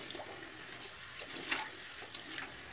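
Cold tap water runs into a bathroom sink while someone rinses their face: a steady, close hiss of flowing water broken by a few louder splashes.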